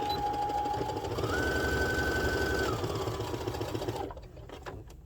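A sewing machine stitches a fabric spa headband in one continuous, close, steady mechanical whir with a slight pitch rise midway, then it stops.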